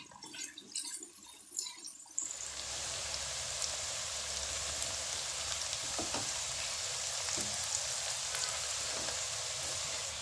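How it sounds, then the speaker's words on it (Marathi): Onions sautéing in a pan for prawn pulao, a steady close hiss of frying with faint crackles and occasional pops, starting abruptly after a brief clatter and continuing evenly with no talk. "आता कांदा छान परतू द्यायचा"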